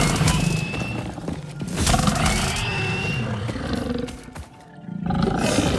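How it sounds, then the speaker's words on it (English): Hogling creatures in the video game Satisfactory let out loud, rough roars in several bursts, broken by a short pause, over steady game ambience. "We got a couple of hoglings here."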